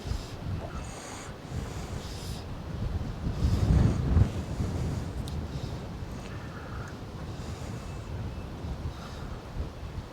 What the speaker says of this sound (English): that wind has started to really, it's swirling around, changing directions.